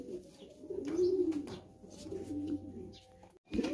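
King pigeons coo in low, rolling, repeated calls close by in a loft, a steady throaty murmur that continues for several seconds, with a brief pause near the end before the cooing resumes.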